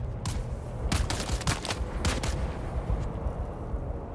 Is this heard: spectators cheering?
no